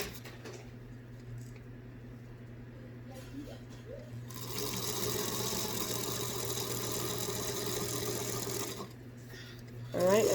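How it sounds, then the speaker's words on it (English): A sewing machine stitches lavender dress fabric for an off-the-shoulder dress, its steady mechanical whir running several seconds at moderate loudness before stopping, with quieter room sound around it. "I'm going to stop there and cut my threads"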